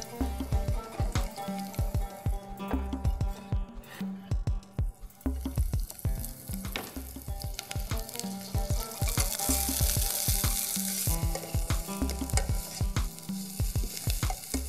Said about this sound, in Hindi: आप प्याज को पैन में डाल दें